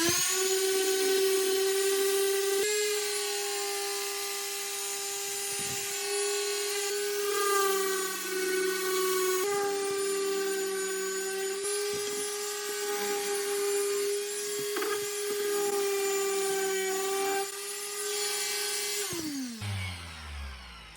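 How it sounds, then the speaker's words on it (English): A circular sander grinds steadily against a wooden push stick for a table saw, a loud, close, high whining buzz with brief dips in pitch as pressure changes, then winding down at the end. "it's a circular sander, it's got to be quite flat"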